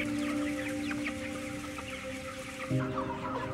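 Dense clucking from a large flock of meat chickens packed together in a broiler shed, a steady layered chorus with constant low hum beneath and one louder squawk near the end.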